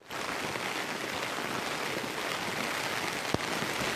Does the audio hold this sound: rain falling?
yes